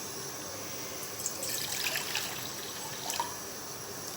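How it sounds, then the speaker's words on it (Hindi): Water trickles steadily into a pot on a lit stove while boiling water for green tea, a soft continuous pour heard alone and close. "ये अभी मैं इसमें पानी डालती हूँ।"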